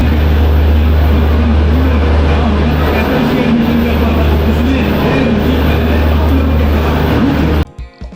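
Shatabdi Express train pulling out of platform 16 at New Delhi on its run to Dehradun, heard as a loud, steady rumble with low droning tones that cuts off abruptly near the end.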